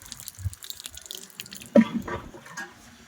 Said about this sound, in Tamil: தண்ணி பாரு வேஸ்டா போயிட்டு இருக்கு